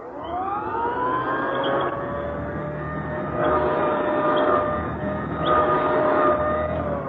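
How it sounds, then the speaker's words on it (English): An old-fashioned motorized vacuum sweeper pushed back and forth over a rug, as a radio drama sound effect: a steady whining motor hum whose pitch and loudness swell and ease in repeated strokes, heard alone. "The machine would be passing back and forth over a rug."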